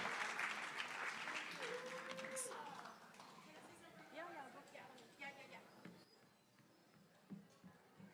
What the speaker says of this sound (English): So one round of applause to you as well, please.